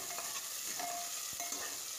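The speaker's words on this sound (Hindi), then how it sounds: "प्याज को हमें गोल्डन ब्राउन होने तक भूनना है।" Chopped onions frying over high heat in a pan as they are stirred, a close, dense sizzle with scraping stir strokes through the short stretch, no voices.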